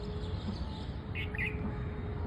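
A bird calls outdoors with a couple of brief, thin chirps rising over steady low background noise.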